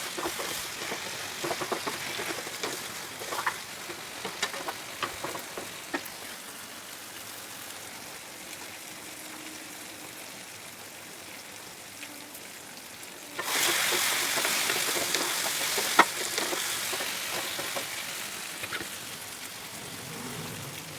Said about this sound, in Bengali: আবারও নাড়াচাড়া দেব। কিছুক্ষণ পর পরই নাড়াচাড়া দেবেন, না হলে নিচ থেকে ধরে যাবে।